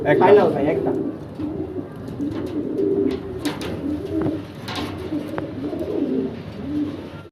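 Pigeons kept in cages at a farm coo repeatedly in low, rolling, throaty bursts, close and continuous across several seconds.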